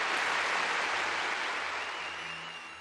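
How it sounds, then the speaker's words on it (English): Applause sound effect in the Pokemon Axis video game for a tournament champion, a steady hiss of clapping lasting about three seconds that gradually fades, with no talking. "Let's give a round of applause for our champion today, Faiz"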